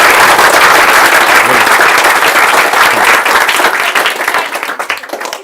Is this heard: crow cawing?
no